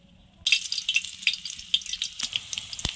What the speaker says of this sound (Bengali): এইভাবে পকোড়ার আকারে ভেজে নিচ্ছি